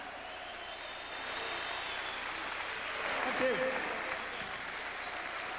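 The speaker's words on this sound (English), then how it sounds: "I give a round of applause to Ben Tackie" Boxing crowd applauding Ben Tackie after a bout, a steady, fairly distant wash of clapping and crowd noise with a brief spoken voice over it.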